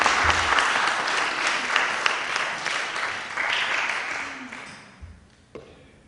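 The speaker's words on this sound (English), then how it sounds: "Should never deny applause." An audience at a prison poetry reading applauds in a sustained wash of clapping that stays steady, then thins and trails off toward the end, with a few scattered final claps.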